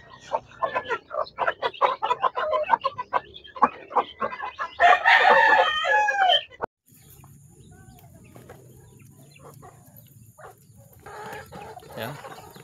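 Chickens and newly hatched chicks in a farm setting, with loud clucking and squawks up close at first, then a quieter stretch of faint cheeping and pecking after a sudden cut.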